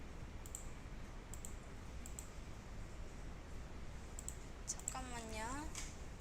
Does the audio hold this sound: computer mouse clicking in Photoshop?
yes